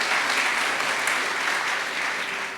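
Steady, dense audience applause rings out for volunteers at a building's grand opening, continuous and full throughout with no talking over it.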